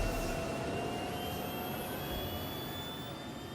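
A spaceship lifts off in a video game with a steady, loud jet-like engine roar and faint high whine, sustained throughout and slowly easing off, with no voices.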